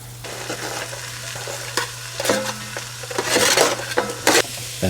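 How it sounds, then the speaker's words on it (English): A knob of butter melting in a soup pot, with a low steady hum running throughout under crackling sizzle that builds, plus several sharp clinks and scrapes of a utensil against the pot. "I'm gonna fully melt this butter"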